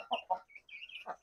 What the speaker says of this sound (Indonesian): Kita ada ayam, ada 5 ayam kampung.